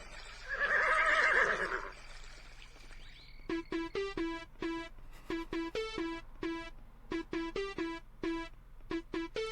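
A horse whinnies loudly and shakily, then a rapid series of short clipped neighs or nickers follows in uneven bursts, close and clear.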